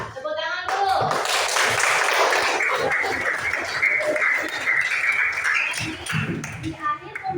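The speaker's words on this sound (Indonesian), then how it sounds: "Ya, tepuk tangan dulu." Schoolchildren clap together in a classroom after a short lesson, a crisp burst of clapping that swells and then tapers off, mixed with voices calling out.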